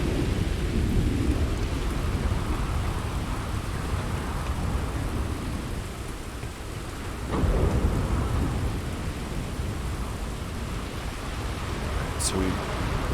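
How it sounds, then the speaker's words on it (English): Continuous downpour on Cydonia in the game Starfield, a constant wash of rain with deep thunder rumbling underneath and a brief louder crack near the middle, steady and close with no clear voices. "It seems like there's a permanent storm here."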